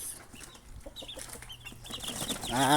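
Chickens cluck softly and repeatedly close by in a farm pen, with scattered short calls and a louder squawk rising at the end.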